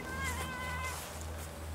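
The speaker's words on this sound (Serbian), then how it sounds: "Beži, mačak." A tomcat meows in a garden, a drawn-out close meow followed by a brief rising call, over a low steady hum.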